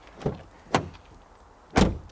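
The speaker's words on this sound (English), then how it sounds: "Tim, open and close your door." Doors of a Skoda Scala hatchback opening and closing: three short thuds at a steady pace, the last one the loudest and most solid, close by with no talking.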